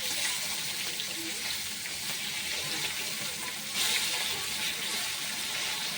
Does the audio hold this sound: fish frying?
yes